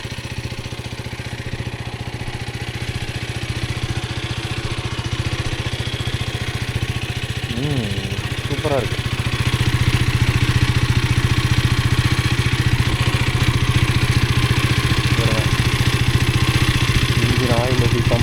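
A Bajaj Pulsar NS200 motorcycle engine idles in neutral outdoors, a steady close mechanical hum running throughout while someone speaks briefly over it.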